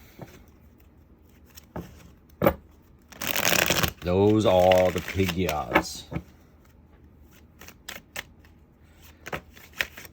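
Tarot cards get shuffled by hand, with a quick burst of riffling followed by a dense run of card flicks, close up, and a voice talking over part of it.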